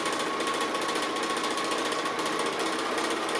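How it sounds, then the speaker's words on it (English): Sewing machine running free-motion straight stitch close to the edge of an applique, a fast, even mechanical chatter that holds steady throughout without pauses or talking. "So I'm just doing a straight stitch but free motion, just close to the edge of the applique"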